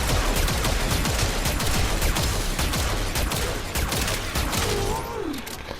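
Arca Plasmor plasma shotgun from Warframe firing in a dense, continuous barrage of loud bursts, with a brief rising electronic tone near the end.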